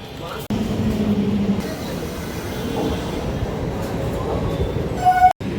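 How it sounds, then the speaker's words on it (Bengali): A train pulls into a station with a steady, loud rumble of rolling wheels and carriages close by, ending in a short sharp high squeal and a clunk as it slows. "ওই দেখো ট্রেনও চলে এসেছে"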